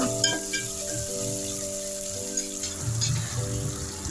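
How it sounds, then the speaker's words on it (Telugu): Tomatoes and kasuri methi frying in a pan for a chicken pulav, a steady soft sizzle with a few light stirring scrapes, close and continuous. "కొంచెం కస్తూరి మేతి కూడా వేసుకొని బాగా వేసి వేయించుకోండి"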